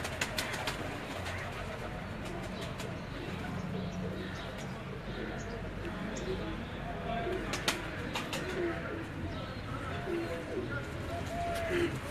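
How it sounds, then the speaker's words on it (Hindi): Soft teddy pigeon coos mixed with other bird calls over a steady outdoor hum, with a voice talking over them in the background. "तो ये उनके टैडी कबूतर जो हैं आपको मैं दिखा रहा हूँ"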